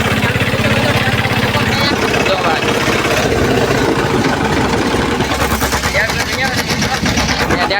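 A farm tractor engine runs with a steady, throbbing low rumble and rapid rattling beat throughout, close and loud, with no voices over it.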